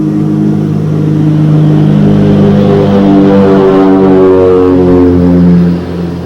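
An early water-cooled aircraft engine of roughly 200 to 300 horsepower, run during the first test flight of a Bach aircraft, drones loudly and steadily with a deep harmonic hum that shifts pitch slightly before easing off.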